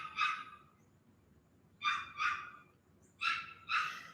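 Dog barking in short paired bursts, three groups of sharp barks spaced apart, fairly close and clear over a low background hum.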